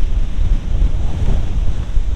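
Wild wind batters the microphone in loud gusting rumbles while heavy surf churns at the sea at sunset, a continuous roaring wash with no talk.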